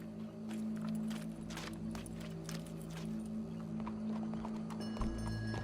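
Horse hooves clip-clop at a steady walking pace in the video game Red Dead Redemption 2, close and rhythmic over a low steady hum.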